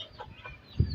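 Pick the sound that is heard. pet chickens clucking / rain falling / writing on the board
pet chickens clucking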